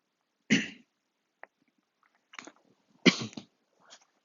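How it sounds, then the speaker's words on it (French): A person coughs close by: a sharp cough, a few smaller rough sounds, then a second strong cough and a faint one trailing after. "Excusez-moi, je tousse."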